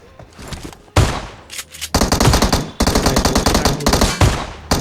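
M4 assault rifle firing in a battle royale shooter, bursts of rapid automatic gunfire with short gaps between them, loud and close, no talking.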